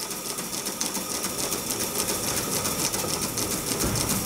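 Scratch-built live steam Gauge 1 locomotive ticking over on low steam pressure: a fast, even mechanical chatter with a constant hissing wash, steady and close throughout, with no voices.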